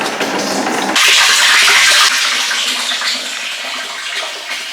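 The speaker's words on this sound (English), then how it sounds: "Water's here! What, coming out of the pipe? Yeah, the hose pipe at the top." Water pumped uphill from a well gushes out of a hose pipe into IBC tanks at an off-grid property, a loud, steady rushing pour that surges briefly and then settles into a constant flow.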